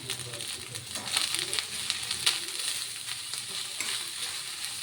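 Rice stir-frying with chili powder and garlic paste in a pan for egg fried rice, a steady close sizzle broken by stirring and scraping clatters.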